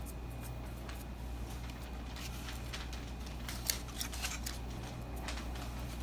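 Faint, sparse cutting clicks and scrapes as an X-Acto knife trims material right up against an edge of a model aircraft fuselage, with a low steady hum in the background.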